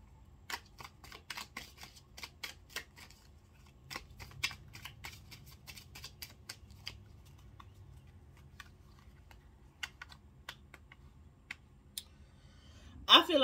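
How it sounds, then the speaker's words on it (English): Tarot cards riffle and snap in quick, irregular bursts, with soft clicks scattered throughout and a louder rustle at the end. "I'm just gonna shuffle and start"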